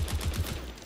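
Rapid gunfire rings out while shooting at police in M2 Grand Auto Racing, a quick burst of four or five punchy shots in a row, loud and close, with a noisy tail.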